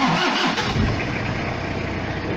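A 2000 Toyota Hilux 4x4 with a 3.0-litre 1KZ-TE turbodiesel fires up and settles into a loud, close, clattering diesel idle.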